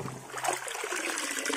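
Water trickles and splashes steadily over a toy rally car being washed, a continuous close stream with no voices.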